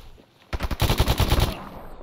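A burst of automatic gunfire in the Stalker Anomaly video game, a rapid string of close, loud shots lasting about a second, with no talk over it.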